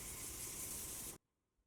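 Setting spray misted onto a face from a bottle: one steady hissing spray burst lasting about a second, close and fairly loud, then cutting off abruptly to near silence.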